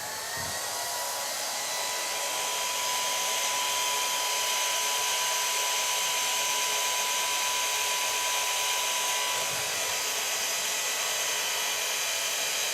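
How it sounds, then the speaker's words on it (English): A hair dryer blows steadily on curly short bob hair, a constant loud airy hum with a faint whine, unbroken and close, with no talk. "I'm softly drying the hair in the natural lines and the natural curls."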